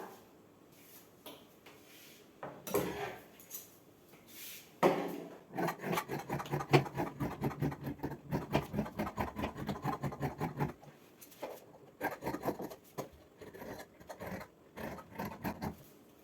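Scissors cutting chudithar fabric on a table, close-up rhythmic snipping and rasping strokes that come in dense runs between short pauses, with no one speaking.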